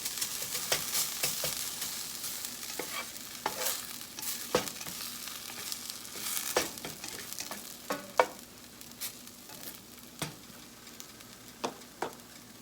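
Loose hash browns fry in a pan with a continuous crackling sizzle, marked by frequent sharp pops and spatula scrapes at close range; nobody speaks.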